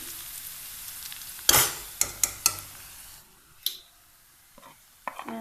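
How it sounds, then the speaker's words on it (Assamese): Onions frying in a pan for samosa filling, a steady background sizzle broken by several close clinks and scrapes of a utensil stirring against the pan, with no talk. "এইখিনি অকণমান ৰঙা হ'বলৈ আমি অলপ দেৰি ভাজি থাকি।"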